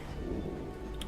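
Steady rain under a dim, stormy sky in the video game Pyre, a dense even wash of falling drops with a low rumble beneath, brief and continuous, with no talk.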